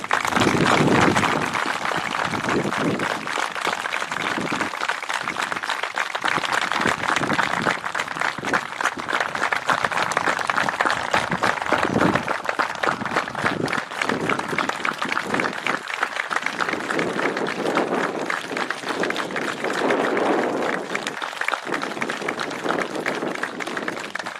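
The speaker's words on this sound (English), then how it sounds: "So if we can have a round of applause for Mr. and Mrs. Rickney." Sustained applause from a large audience, dense steady clapping that carries on loudly for the whole stretch.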